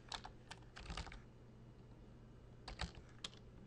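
Typing on a computer keyboard to enter a database name, with two short bursts of close, crisp keystrokes separated by a quiet pause over faint background hum.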